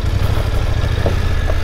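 Close, steady idle of a motorcycle being edged and backed over loose stones, a low pulsing rumble with faint clattering and no voices.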